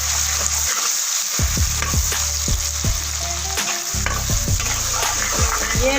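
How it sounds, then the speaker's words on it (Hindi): Garlic and ginger paste fries and browns in hot oil for a fish curry, a steady close sizzle broken by repeated scraping stirs of a spoon across the pan, with no talking. "ये लहसुन अदरक ब्राउन हो रहा है।"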